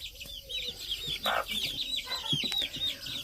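Chickens cluck softly near their feed, a steady, fairly quiet stream of short calls with a few louder notes, no talking.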